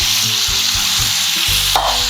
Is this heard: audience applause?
no